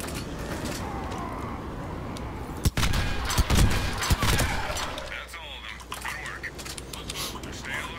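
An M-99 Saber sniper rifle fires in Mass Effect 3 with a few sharp, separate cracks spaced a second or so apart over busy game noise and mechanical clatter, with a voice talking through it.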